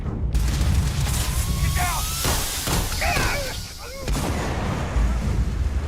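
Slow, heavy weapon shots in the sci-fi video game Starfield, a few loud booming blasts spaced apart over constant game noise, with a person talking over them.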